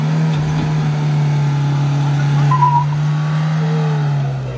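Mahindra Thar engine labouring steadily as it struggles to climb a steep off-road slope, a continuous loud low drone holding throughout with a brief swell midway and fading slightly at the end.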